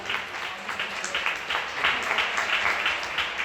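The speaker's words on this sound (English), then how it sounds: "Can we give a round of applause for 56 years" Applause from the audience at a Louisville Dirt Bowl Hall of Fame awards event, a steady wash of many hands clapping with irregular peaks, moderately loud and continuous throughout.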